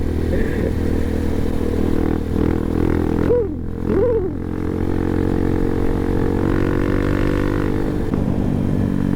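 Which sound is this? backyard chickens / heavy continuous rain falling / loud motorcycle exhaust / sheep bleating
loud motorcycle exhaust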